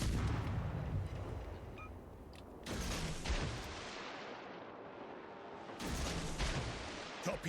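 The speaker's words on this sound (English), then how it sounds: "Because I fired my guns," Warship main guns firing in the naval combat game World of Warships: Legends, heavy booming salvos that roll out and decay, with a second loud burst later, set against a low game ambience.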